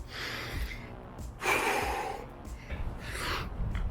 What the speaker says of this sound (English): I'm just gonna stop and breathe for a second.